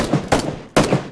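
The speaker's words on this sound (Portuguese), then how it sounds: "vou ter que dar tiro nos caras ali, filho" Gunfire from the video game PUBG plays as loud, close shots, three sharp bursts in quick succession, each with a ringing tail.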